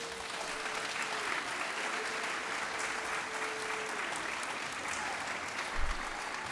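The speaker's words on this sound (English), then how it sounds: "let's give our students and everyone another round of applause" Sustained applause from an audience at a youth recognition awards event, even and continuous clapping at moderate level, with a faint tone and a brief low thump near the end.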